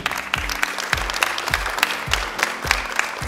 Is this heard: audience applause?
yes